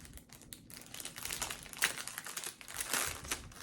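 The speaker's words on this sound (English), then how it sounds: "I'm going to take this out of the package." Scissors taken out of a plastic package, close, continuous crinkling and rustling of plastic with sharper crackles scattered throughout.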